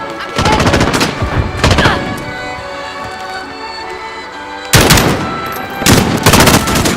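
Gunfire in the shooter Modern Warfare: rapid automatic bursts crack loudly at the start, pause, then erupt again near the end, close and punchy over a low ambient battlefield hum.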